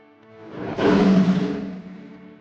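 Lion roar from a children's jungle-animals learning song, a single broad rumbling roar swelling up and fading over a couple of seconds, loud and alone with no talk.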